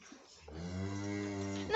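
A single long, low moo from a large grey cow, close by, rising after a brief quiet moment and holding steady before ending.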